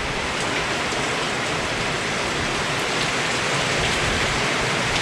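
Heavy rain falls steadily at a house under renovation, a dense, even hiss from start to finish with no talking.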